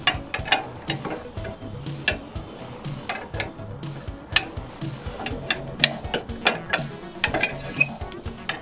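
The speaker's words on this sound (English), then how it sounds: "Now let's get this bolt put in." A pin is worked into a BOLT lock trailer coupler on a Resto Rat Customs trailer, with repeated close metallic clicks, rattles and ratchet-like clacks in an irregular rhythm.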